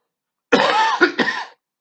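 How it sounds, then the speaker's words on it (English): A single person coughs close to the microphone, one long harsh cough followed by two shorter rough bursts, with silence around them. "So I'm going to need a nurse pretty soon if I don't quit coughing."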